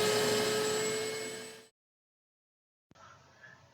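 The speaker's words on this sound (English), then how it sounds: "basically spray and then follow it with the vacuum overlapping the passes" A carpet-cleaning vacuum passes over carpet sprayed with rinse agent, giving a loud, close, steady whooshing drone that cuts off abruptly, followed by silence and then faint, softer handling noise.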